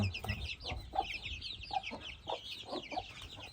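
Several chickens clucking nearby in short repeated bursts, with softer chirping peeps from chicks and a low background rumble.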